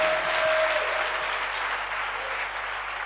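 A church congregation claps in praise of God during a worship service, a dense, steady burst of applause that fills the room and fades slightly toward the end, with no clear speech.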